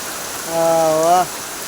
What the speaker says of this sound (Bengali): প্রচুর বৃষ্টি আছে এদিকে